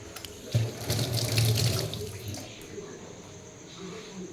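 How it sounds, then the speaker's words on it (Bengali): Tap water gushes into a sink as hands are washed, a close splashing stream that swells then eases, with a voice talking over it. "এখন আমি হাত ধুতে এসেছি।"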